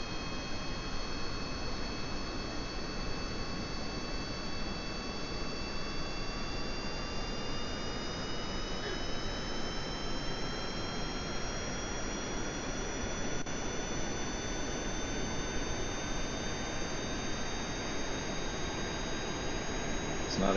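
Spaceplane jet engines roar in Kerbal Space Program, a steady broadband rush with thin whining tones that slowly rise in pitch, continuous and even for the whole stretch with no talk.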